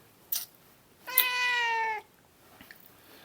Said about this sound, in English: she'll meow until I feed her